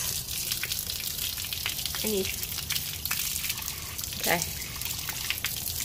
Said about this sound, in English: Rinsing her mouth.